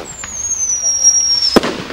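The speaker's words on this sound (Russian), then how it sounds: "Дальше пробуем запускать римские свечи." A Roman candle firework launches outdoors with a thin, falling whistle that ends in a sharp, loud bang. A faint crackle trails off after the bang.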